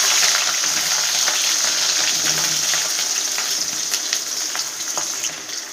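Onions frying in hot oil with mustard seeds and green chillies for a ridge gourd chutney, a steady close sizzle with faint crackles and pops running throughout.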